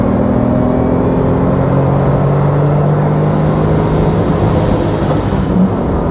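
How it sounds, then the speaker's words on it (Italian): A Honda NSX sports car engine running with a loud, deep, steady drone from inside the car, holding a constant growl without talk. "Il suono è davvero coinvolgente, il motore è grosso, robusto"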